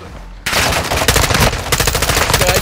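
Loud, rapid machine-gun fire in Call of Duty: Modern Warfare II bursts in after a brief quiet moment and keeps hammering in dense volleys, shooting down an enemy.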